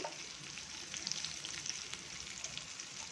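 Curry leaves and ginger frying in hot oil in a pan, with cashews, a steady close sizzle and crackle running throughout with no voices.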